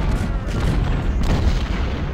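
Civil War artillery fire in Ultimate General: Civil War at Chancellorsville, a rapid series of deep, loud booms rumbling close together over about two seconds.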